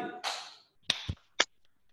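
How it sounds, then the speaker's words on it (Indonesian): A few sharp, separate claps from a congregation during an online church Bible study service in Tanjung Sari, following a spoken voice, with a brief voice between the claps. "Hati, tolong tepuk tangan sekali."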